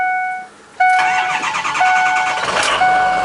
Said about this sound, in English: See, it cranks right up.